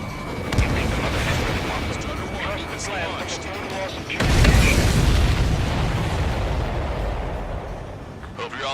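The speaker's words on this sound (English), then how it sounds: "you see that explosion? Looks like that's one of them down." Explosions in the Ace Combat 7 flight game boom heavily over a rumbling background, with a big blast about halfway through, while radio chatter plays over them.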